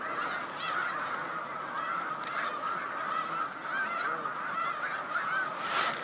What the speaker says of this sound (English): there are a lot of geese here